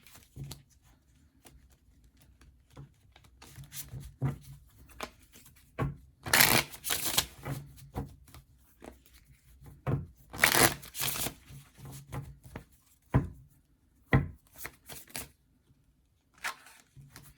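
Tarot cards shuffled in scattered bursts: soft rustles build into several loud, close riffles and flicks separated by quiet pauses, with no speech.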